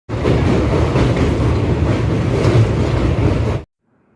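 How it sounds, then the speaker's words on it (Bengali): Steady rumble of a moving train with rhythmic rail clatter, loud and continuous, then cutting abruptly to silence near the end. "এখন হচ্ছে ট্রেন চালানো শুরু হয়ে দিয়েছে"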